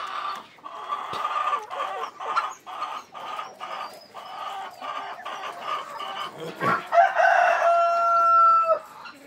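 Farm chickens cluck in a rapid, busy chatter, followed by a rooster's loud, drawn-out crow near the end, all close by.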